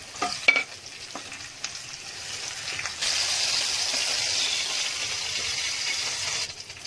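Hot tempering of fried red chilli and cumin pouring into kadhi, a few sharp clinks, then a loud steady sizzle and gush of hissing oil from about three seconds, held evenly before cutting off near the end.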